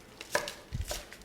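Knife rough-cutting onions for a smoked wagyu brisket chili, a couple of crisp chops on a board, close and clear with short pauses between strokes.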